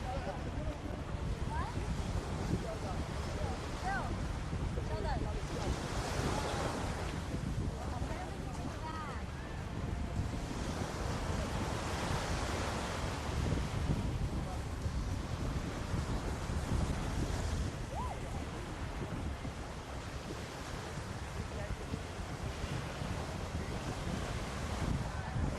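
Surf and wind on a beach on New Providence in the Bahamas: a continuous wash of waves breaking with gusty wind buffeting the microphone, and a voice speaking faintly over it.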